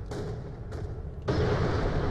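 In Borderlands: The Pre-Sequel, two brief muffled thumps are followed by a grenade blast that bursts into a loud, sustained rumbling roar for the final second.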